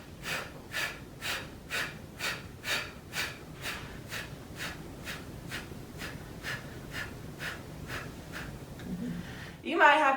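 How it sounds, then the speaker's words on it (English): Rhythmic sharp forceful exhales, about two per second, repeated steadily during a breathing exercise after a deep inhale, close and clear, with a louder breath at the end. "So I'm going to inhale nice and deep in, and then I'll start my exhale."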